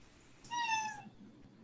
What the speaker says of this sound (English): Like my incredibly high pitched squeaky cat specifically, who is just standing here like, why aren't you playing with me?